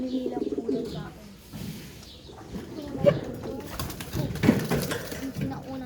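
An old pigeon from Taiwan coos in soft, low bursts amid background noise and brief handling sounds, with faint voices nearby.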